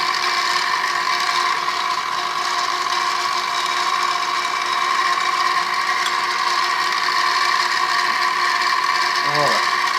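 A milling machine cuts steadily as its cutter plunges into a red spacer plate block for a 383 Chrysler engine. The loud, continuous machining whine and hum run the whole time, with a brief gear-like whir near the end.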